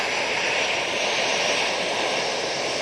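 An airliner taking off at Manchester Airport, a loud, steady roar of jet engines that holds evenly throughout with no talk over it.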